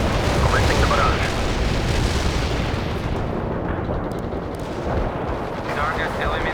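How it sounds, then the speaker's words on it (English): Artillery barrage in the video game World in Conflict, a dense, loud rumble of overlapping blasts and booming impacts that roll on continuously without a break. "artillery is available. Commencing the barrage."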